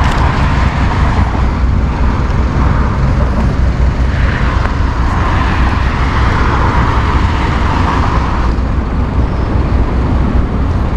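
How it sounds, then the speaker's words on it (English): Traffic streams along a busy Salisbury Highway with cars, trucks and buses, a loud, constant roadway roar with passing engines swelling and fading as vehicles go by. "So it's very busy road with cars, trucks, buses, you name it."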